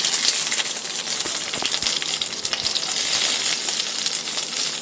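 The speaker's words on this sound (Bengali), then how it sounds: "এই উপকরণগুলোকে ভালোভাবে আমরা ভেজে নেব" Onion, green chilli and garlic fry hard in hot oil in a pan, a dense, steady crackling sizzle with scattered sharp pops, close and loud throughout.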